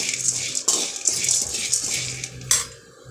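Chana dal is roasted in a pan, with metallic scraping and rattling of a utensil against the pan in several irregular strokes, close and clear, including a sharper clatter near the end.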